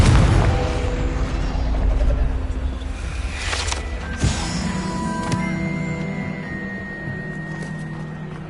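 A Confringo blasting spell explodes in Hogwarts Legacy, a booming burst followed by crackling, ringing magical tones that linger and fade.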